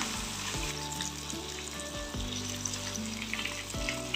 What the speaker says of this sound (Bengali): এইভাবে বাকি মাছগুলো ভেজে নিচ্ছি।